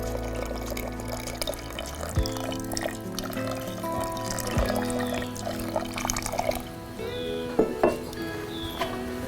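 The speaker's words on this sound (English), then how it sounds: "So now I'll add the milk" Milk pours into a pot of khapli wheat sheera, a continuous liquid splashing and dripping up close with a few clinks and small bumps along the way.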